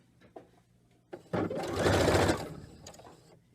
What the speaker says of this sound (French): pour aller avec la machine à coudre, on va tout d'abord aller commencer avec le doudou.